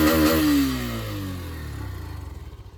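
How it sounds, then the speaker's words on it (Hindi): A Hero Xtreme 125R motorcycle revs up close, its sporty exhaust note falling away from a sharp peak into a slow, pulsing idle. "तो भाई आपने सुना कितना प्यारा एग्जॉस्ट नोट था इसका, पूरा स्पोर्टी एग्जॉस्ट नोट है इसका"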